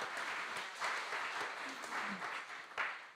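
Brief burst of audience applause at a conference session, a dense, fairly distant patter of many hands clapping with no one speaking.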